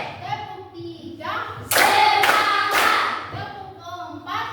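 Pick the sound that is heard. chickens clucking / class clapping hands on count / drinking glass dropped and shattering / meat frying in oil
class clapping hands on count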